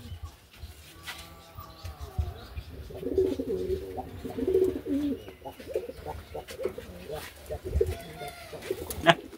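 Pigeons from a racing loft cooing on the rooftop, a few birds giving low throaty coos and rolling calls in bursts, with faint voices and small rustles around them.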